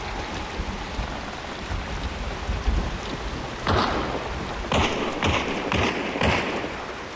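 Steady, heavy rain pours through a swampy video game level, a dense continuous hiss with several sharper, louder bursts breaking through in the second half.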